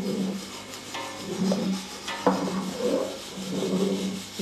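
Koki dough being stirred by hand after warm water with kanwa is added, giving a soft, steady rubbing and scraping in a bowl, with a few brief knocks along the way.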